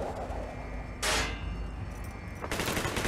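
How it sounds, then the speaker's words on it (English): Bursts of gunfire in the game Call of Duty Black Ops, a loud burst of shots followed by a second volley amid a constant battle din, with no voices. "Gunfire's drawing attention."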